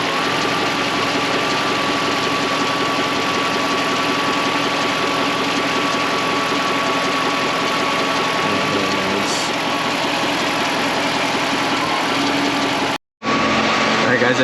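Mercedes M119 V8 idling steady and loud up close, its rough running with an occasional stumble, with a brief dropout near the end.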